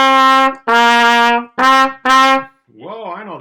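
Trumpet playing the opening of a song during a beginner lesson: four clear, loud sustained notes in a stop-start rhythm, then a brief sung voice at the end.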